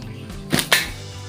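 A slingshot with a tamarind-wood fork fires shots at a target set at the base of a roadside utility pole: two sharp snapping cracks about a fifth of a second apart, fairly close, with no talking.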